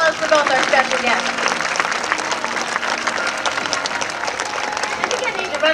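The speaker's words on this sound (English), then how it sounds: "How about a big round of applause for both our special guests?" Audience at a Marineland show in California applauding guests, with loud, dense clapping from a large crowd that holds steady throughout and a voice speaking over it at the start.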